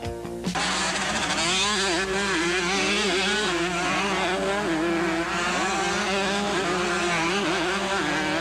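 Motocross motorcycles racing through a gully at the 1987 Thunder Valley 125/250 National, loud high-revving engines with wavering pitch, starting abruptly and holding steady near the listener.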